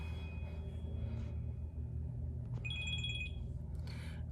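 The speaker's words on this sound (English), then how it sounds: "my phone is ringing like crazy today" A mobile phone ringtone chimes briefly as a repeating electronic tone over a steady low rumble, loud enough to stand out but short-lived.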